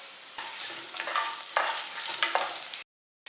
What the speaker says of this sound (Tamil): பாருங்க, பூண்டு நல்லா பொரிஞ்சிடணும், அப்போ நல்லா மணமாக இருக்கும்.